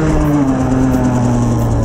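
A 50cc Derbi Senda engine screams steadily in third gear during a no-clutch wheelie, loud and close, with a sustained buzzing drone and a slowly falling pitch throughout.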